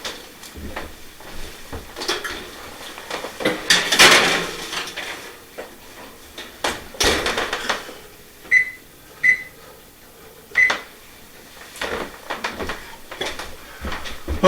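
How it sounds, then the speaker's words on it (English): Crostini trays slid into a home kitchen oven: scattered metallic clatters and knocks of pans and racks, a door-like thud, and a few short beeps of an oven control, close and alone with no talk. "So let me go ahead and put these in the oven now."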